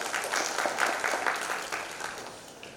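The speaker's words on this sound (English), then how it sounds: "Can we have a louder round of applause?" A conference audience at a digital transformation conclave in Guwahati gives a round of applause, a soft, distant wash of clapping that fades gradually toward the end.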